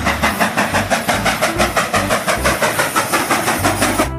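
A toy train engine runs nearby with a fast, steady, rhythmic chugging and rattling that pulses evenly throughout, loud and close, with no talking.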